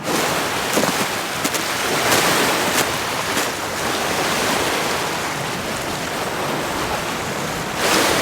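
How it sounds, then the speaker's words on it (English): Strong wind roars loudly and continuously outdoors on a beach, mixed with the rush of surf washing the sand, with no voices. "Show you how windy and great it is out there?"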